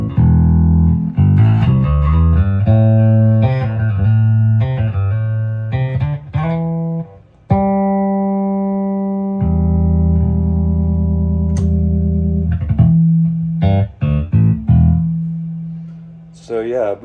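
A Peavey T40 bass guitar with the bridge pickup in phase inversion gives a thin, nasal 70s jazz-bridge tone, with notes and sustained chords played loud through effects, ringing close and clear.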